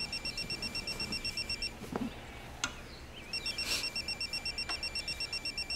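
A mobile phone rings indoors in a rapid, repeating electronic beeping pattern. The ringing pauses briefly in the middle with a few soft knocks, then resumes. It sounds moderately quiet and a little distant.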